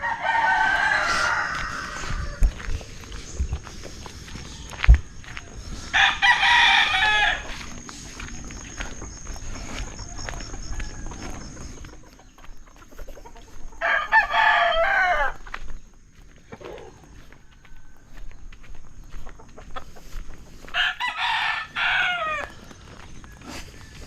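Rooster crowing repeatedly outdoors, four loud drawn-out calls spaced several seconds apart, with softer clucking, footsteps and rustling between them.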